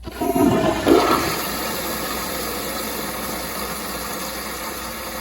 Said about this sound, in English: But this is on full pressure, so here's a flush.